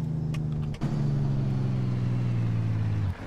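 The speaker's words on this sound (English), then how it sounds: "So the J-brake sounds really nice." Truck engine brake in American Truck Simulator, a steady low droning rumble that briefly dips near the start, then holds loud and even before easing off at the end.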